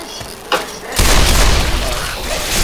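Gunshots heard inside an elevator: a sharp crack, then a loud booming blast that rings on and sustains, with voices around it.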